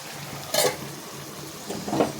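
A lid is lifted off a frying pan with fish cooking, giving two brief clattering metallic scrapes followed by a soft sizzle underneath.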